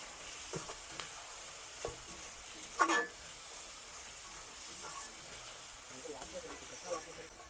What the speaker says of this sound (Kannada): ಮತ್ತೇನಂದ್ರೆ ಕರಿಬೇವನ್ನ ಆಡ್ ಮಾಡ್ತಾ ಇದೀನಿ.